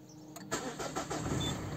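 A diesel car engine, slow to start, cranks briefly and then catches, settling into a steady running rumble close to the microphone with no talking.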